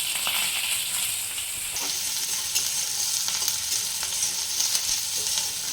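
Chopped onion frying in hot oil for a Bengali-style chickpea ghugni, giving a steady, loud sizzling hiss throughout with occasional stirring scrapes, and no voices.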